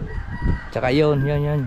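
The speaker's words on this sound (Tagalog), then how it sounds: "Ayan ang manok pare, galing yan doon sa akin." A rooster crows once, close and loud, giving a full drawn-out cock-a-doodle-doo after a few short clucks. Someone speaks briefly just before the crow.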